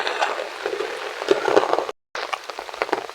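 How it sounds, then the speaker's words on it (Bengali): Heavy rain pattering densely on surfaces close by, a busy crackling wash with a brief full dropout partway through, and no voices. "কিরকম বৃষ্টি দিচ্ছে ভাই"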